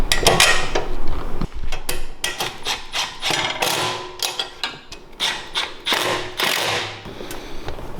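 Bolts and nuts go onto a 105cc mini bike during assembly: a busy stream of close, sharp metallic clanks, taps and knocks in an uneven rhythm, fairly loud, with no speech.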